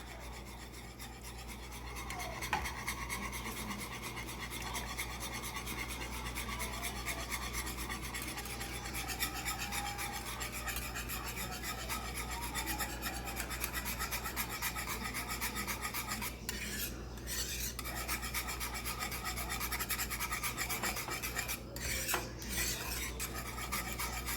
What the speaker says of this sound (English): whisk this up all together until the butter is melted and everything is pretty combined